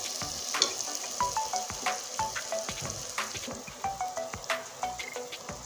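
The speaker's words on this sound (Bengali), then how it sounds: "আরো ভাজতে হবে পেঁয়াজটা।" Onions frying in a pan for a breakfast of eggs and Maggi noodles, a steady close sizzle with frequent light clicks and scrapes of stirring throughout.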